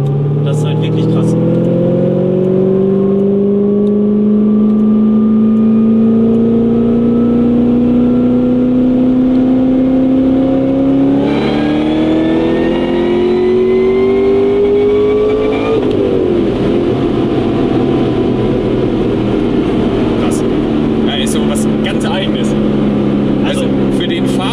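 An 800 hp supercharged Corvette ZR1 on semi-slick tires pulls hard from inside the car, engine pitch climbing steadily through gears with a shift near the middle, while people talk over the loud drone.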